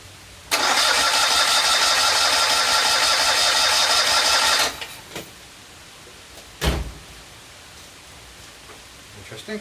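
A Citroen 2CV with a leaking exhaust is cranked by its starter for about four seconds in a loud, steady whir, but the engine doesn't catch. A couple of faint clunks and a louder thump follow, then quiet.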